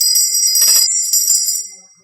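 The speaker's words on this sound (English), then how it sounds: "There's the bell." A bell rings out loud and bright with a long shimmering ring, several quick strikes in the first second and a half before fading away.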